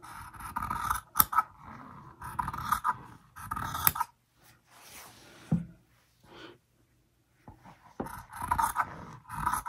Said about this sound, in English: I'm gonna cut off the selvage.